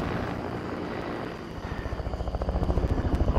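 Helicopters fly overhead in a video game, a broad whooshing engine roar that builds into a fast, loud rotor chop as they draw closer.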